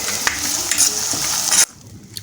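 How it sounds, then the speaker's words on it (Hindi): Garlic-ginger paste frying in oil with a large chopped onion makes a loud, close sizzle with stirring scrapes that drops suddenly to a quieter crackle near the end. "डाल देंगे लहसुन अदरक का पेस्ट और उसको हम फ्राई कर लेंगे।"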